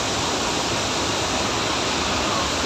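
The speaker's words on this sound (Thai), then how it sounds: "น้ำตกพี่น้องตกตัดสูง" Tad Sung waterfall in Laos, a dense, continuous rush of falling water, close and loud with no pauses.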